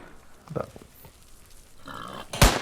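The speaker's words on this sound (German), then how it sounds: "Noch 4 Schuss, dann sind die Schweine nämlich los." Pigs grunting in the VR hunting game GAIM, a few short low grunts and snorts spread across the moment, then a sharp loud impact at the end.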